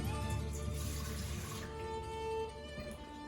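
Warm water poured for baguette dough, a steady splashing stream that runs for a few seconds and then thins out, fairly quiet and close with no talking.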